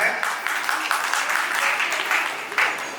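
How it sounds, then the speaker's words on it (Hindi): An audience at a Jain temple festival event claps after a performance, a dense steady wash of applause throughout, with a voice faintly underneath. "जोरदार तालियां बजीजिए"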